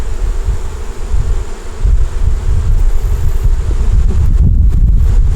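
Honey bees buzz at a hive, a dense, continuous drone close to the microphone, mixed with gusty wind noise.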